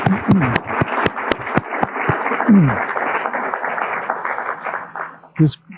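Audience applause closing a summit on Brewster ponds after presenters are thanked, steady dense clapping for several seconds with a few louder individual claps and brief voices at the start and end.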